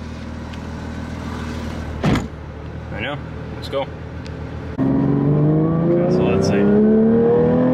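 A brand-new 992 Porsche 911 GT3 with a manual gearbox and stock exhaust fires up, with a door thud and brief talk first, then a steady idle that climbs into rising engine revs as it pulls away.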